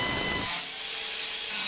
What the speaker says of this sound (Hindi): तो ये ड्रिलिंग कर लेते हैं यहाँ पे फटाफट से